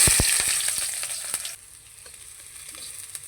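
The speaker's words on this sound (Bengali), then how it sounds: "পেঁয়াজ মরিচ ভেজে নিয়েছি" Onion, chili and garlic fry in a pan. The sizzle is loud and bright at first with a few stirring knocks, then it settles to a quieter, steady crackle.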